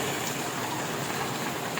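Heavy afternoon rain pours down over farmland in a dense, unbroken roar, loud and steady from start to finish with no voices.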